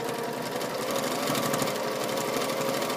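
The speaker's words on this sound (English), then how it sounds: "So you can go ahead and stitch that on right through to the end" A sewing machine runs steadily, stitching binding along the edge of a small open tote bag with a quarter-inch seam, its rapid mechanical whir and needle chatter close and continuous throughout.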